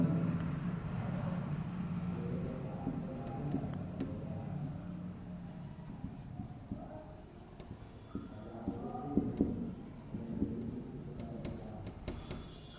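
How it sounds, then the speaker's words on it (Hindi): Steady scratching of a marker or chalk writing on a board during a physics lecture on electromagnetic induction, continuous and close, with quiet room noise and occasional faint voice. "यहाँ लिखेंगे"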